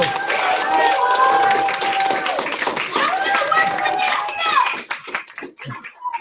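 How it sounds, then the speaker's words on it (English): Sixth grade class applauding during a video conference, loud close clapping mixed with children's excited voices and cheers, fading into scattered talk near the end. "give her a round of applause and say thank you"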